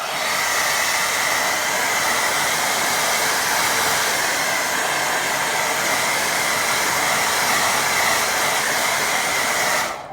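A hair dryer drying a watercolour painting, blowing a loud, steady, unbroken rushing hiss at close range for about ten seconds before cutting off at the end, with no talk.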